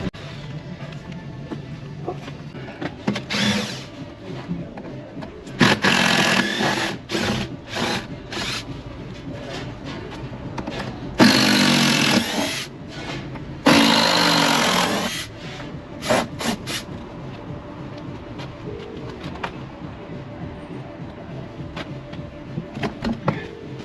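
A power tool whirs and grinds in several bursts of varying length, loud and close, while a gate is being taken off to clear the way for a spider lift, with quieter gaps between the runs.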